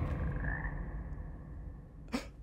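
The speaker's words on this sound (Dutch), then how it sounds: "de kikkers zijn geweldig" Frogs croak in the video game Hogwarts Legacy: a nearby drawn-out croak, a quieter stretch of ambient background, then a brief sharp croak near the end.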